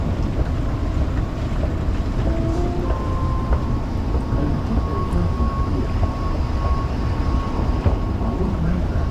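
Dubai metro train rumbling along, a steady loud low roar with faint tonal whines and rattles running the whole way, like riding inside a carriage.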